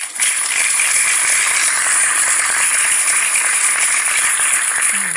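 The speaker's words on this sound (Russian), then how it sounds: "смешной звук окончания работы" A Pomodoro timer app's novelty end-of-work alert plays loud and steady for several seconds, a bright, dense, buzzing rattle with no speech over it.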